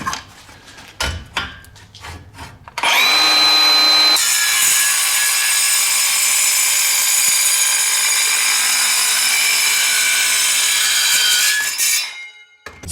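A metal spacer about 1.25 inches long, cut for a 1973 Oldsmobile 442 rear control arm bushing job, is sawn with a power tool: a loud, steady high-pitched cutting whine running about nine seconds after a few short starting bursts, then stopping.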